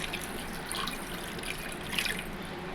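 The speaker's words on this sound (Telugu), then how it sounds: "ఇప్పుడు ఒక గ్లాసు వాటర్ వేసుకోండి" A glass of water poured into a pan of tamarind fish curry made with korameenu (snakehead) fish, giving a steady close-up splashing trickle that runs for a few seconds with no talk.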